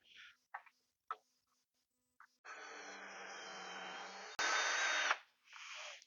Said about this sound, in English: let the drill do what it's supposed to do